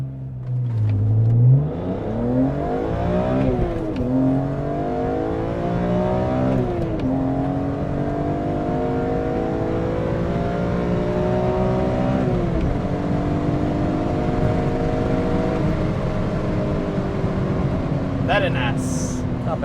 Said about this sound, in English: here is a Dinan Stage 2 E46 M3 launch